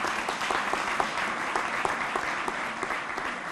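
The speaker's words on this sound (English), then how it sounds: "Let's give them another round of applause and thanks." Warm, steady applause from a crowd at a 3rd District police award ceremony, dense clapping that carries evenly throughout.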